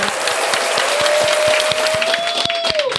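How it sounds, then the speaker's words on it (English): A podcast audience claps, a dense, steady wash of hand claps filling the three seconds at close range, with a thin sustained tone running through it. "Let's give a round of applause for my."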